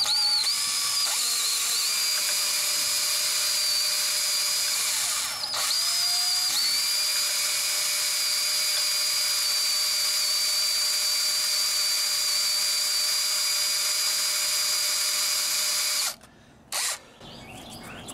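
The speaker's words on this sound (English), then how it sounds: "Now I'm going to go ahead and drill this hole right here." A power drill bores a hole in metal with an oiled bit, a steady high whine that runs close and loud for about sixteen seconds, with a brief pitch dip partway, then stops with a couple of short clicks.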